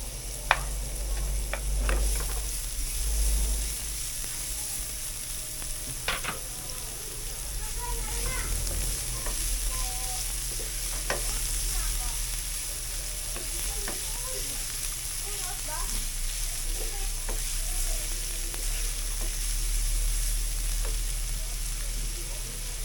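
Ginger frying in a pan gives a continuous close sizzle with scattered crackles and stirring knocks, steady throughout with a low background hum, and a voice is heard faintly at times.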